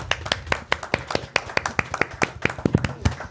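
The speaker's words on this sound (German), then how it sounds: "Einen großen Applaus bitte" A small audience claps at a live podcast festival comedy show, with distinct, fairly sparse hand claps in an irregular rhythm, loud and close.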